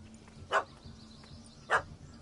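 A dog barks twice at a cat up a tree in The Witcher video game, two short separate yaps about a second apart over a low steady background hum.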